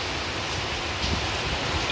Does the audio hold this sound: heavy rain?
yes